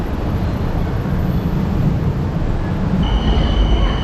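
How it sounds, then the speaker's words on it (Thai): A BTS Skytrain pulls into Sala Daeng station in Bangkok with a loud, close rumble of rolling wheels, and a thin high tone rises near the end. No voices are heard. "ไม่นานนักก็ BTS ก็มา ถึงสถานีสลาแดงแล้วนะครับ"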